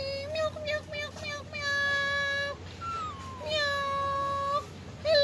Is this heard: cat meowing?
yes